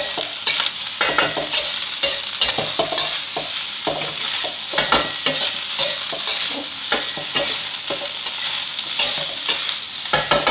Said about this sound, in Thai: ผัดต่อยครู่เดียวครับไฟแรงเลยนะ